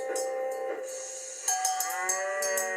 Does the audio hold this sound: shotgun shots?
no